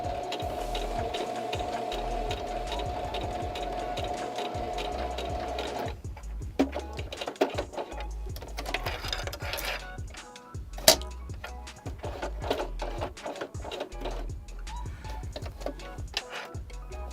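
Electric sewing machine run by a touchy foot pedal while building a puppet, stitching in fast steady bursts with short stops and restarts, close and loud with no talking.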